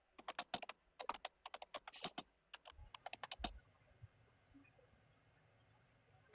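Rapid typing on a computer keyboard, a dense run of sharp key clicks in uneven bursts for about three seconds, then stopping into quiet room tone with a few faint thuds.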